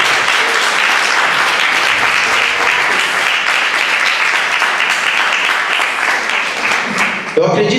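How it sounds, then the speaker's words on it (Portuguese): A church congregation breaks into loud, sustained applause during a service, dense clapping holding steady throughout before cutting off abruptly at the end. "Dá uma salva de palmas para quem nos acompanha."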